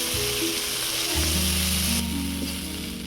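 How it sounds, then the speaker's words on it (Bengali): Prawns frying in hot oil in a pan, a loud continuous sizzle with a steady hiss and low hum throughout, close up with no talking. "চিংড়ি মাছ ভাজা হয়ে গিয়েছে, তুলে নেব।"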